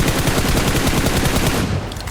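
Rapid, continuous bursts of M4 rifle fire in the PUBG battle game, loud and close, with the shots tapering off near the end.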